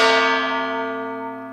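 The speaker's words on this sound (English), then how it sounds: "On Saturday afternoon, these bells will ring like they always do." A single church bell strike rings out clearly and decays slowly with rich sustained harmonics, close and loud with no voices over it.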